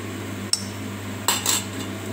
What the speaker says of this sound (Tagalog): So haluin natin hanggang sa ma-dissolve yung ating flour